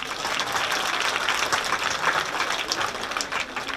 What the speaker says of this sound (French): on peut l'applaudir fort.